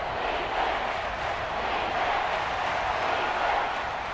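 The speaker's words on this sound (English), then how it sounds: "This crowd turning up the decibel level." Stadium crowd in Madden NFL 24 during a simulated Tennessee Titans versus Houston Texans game, a steady loud roar of fans that stays constant and fills the space, with no talking.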